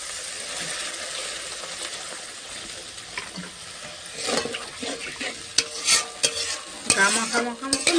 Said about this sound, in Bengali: মশলাটা খুব সুন্দর কষানো হয়ে গেছে, এটা আমি অল্প পরিমাণে জল দেবো।